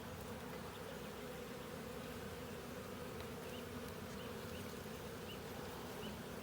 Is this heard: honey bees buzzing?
yes